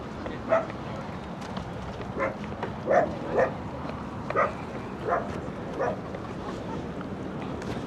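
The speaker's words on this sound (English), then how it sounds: "if you hear there's like barking" Several dog barks ring out at scattered moments over a steady outdoor wind-and-water background, moderately distant, on the Oceanside Pier in California.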